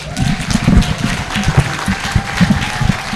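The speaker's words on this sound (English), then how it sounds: "A round of applause." Audience applause at an International Women's Day 2024 gathering in Kenya, a dense, steady patter of many hands close by, lasting about three seconds with no talk over it.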